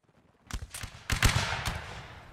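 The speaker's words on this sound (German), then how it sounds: "Freies Feuer, schießt auf die Pferde." Gunfire in a Napoleonic-era Mount and Blade Warband line battle, with a volley aimed at horses: a scattered string of muskets cracking and overlapping over about two seconds, moderately distant and with no talk over it.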